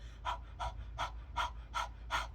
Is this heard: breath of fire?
yes